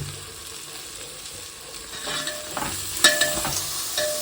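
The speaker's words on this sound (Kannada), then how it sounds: "ಈಗ ಇದು 5 ನಿಮಿಷ ಚೆನ್ನಾಗಿ ಫ್ರೈ ಮಾಡಬೇಕು" Mint frying in a pan for tomato bath, with a soft steady sizzle that picks up louder scraping stirs and clinks in the second half.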